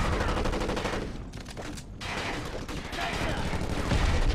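Dense, sustained automatic gunfire from the PS2 shooter Black rattles on nearly nonstop, with a brief thinner lull before the heavy volleys resume.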